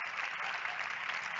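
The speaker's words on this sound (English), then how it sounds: "Give yourselves a round of applause." Steady, dense clapping from a large crowd, loud and continuous throughout with no pauses.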